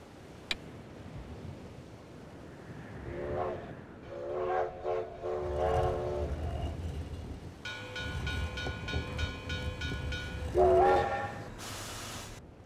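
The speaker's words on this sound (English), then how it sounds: "A train." A train passes with a sustained multi-tone horn blast in the middle and rumbling wheels underneath, set among brief tonal music-like chimes at start and end; fairly close and moderately loud.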